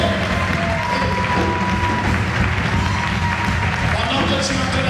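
A church congregation claps and cheers together in a continuous, dense burst, near and loud, with voices calling out among the applause.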